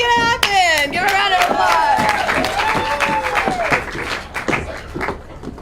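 Studio audience applause and clapping for Hannah at a live sketch comedy show, a dense crowd patter running steadily throughout, with a voice briefly heard over it.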